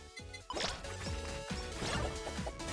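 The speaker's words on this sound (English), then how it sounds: "Throw a bottle that shatters into a snowflake." A thrown bottle shatters in a video game with a sharp crash and glassy tinkling, amid layered game music and effects that continue around it.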